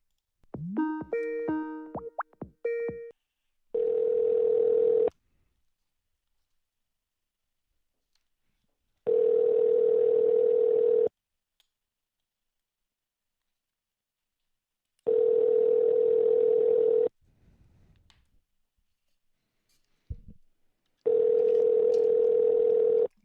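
A telephone line plays a steady dial tone in four separate bursts of about two seconds each, with quiet gaps between them, after a quick run of dialing beeps at the start of an outbound sales call.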